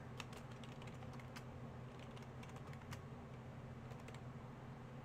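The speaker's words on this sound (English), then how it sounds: "And then we just type in our name." A name being typed on a computer keyboard, a faint, steady run of quick key clicks in short clusters over a low background hum.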